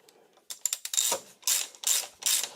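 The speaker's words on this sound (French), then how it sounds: "Alors, peut-être essayer au cliquet, ça ira peut-être plus vite." A ratchet wrench tightens a spark plug on an engine, giving quick clicking pawl sounds in several short bursts of rapid ratcheting, heard close and clear with no talk.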